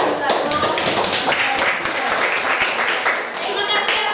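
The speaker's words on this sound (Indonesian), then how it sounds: "Beri tepuk tangan untuk Arnold." Schoolchildren in a classroom clap together in continuous, loud, scattered applause with rapid overlapping claps lasting the whole stretch.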